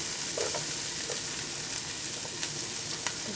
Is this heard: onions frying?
yes